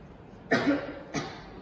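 Two sharp coughs, close and fairly loud, the first fuller and the second shorter about half a second later.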